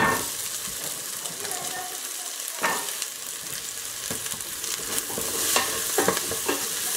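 Carrots and garlic sauté in a hot pan for a ftour meal, a steady close sizzle broken by scraping stirs and brief clatters of the utensil.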